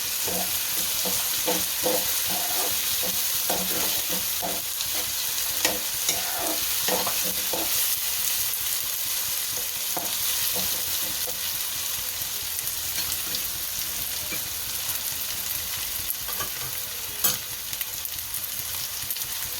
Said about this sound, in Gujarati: હવે આપણે સિંગદાણા જે શેક્યા હતા એ નાખી દઈએ, અને હલાવી નાખશું સારા।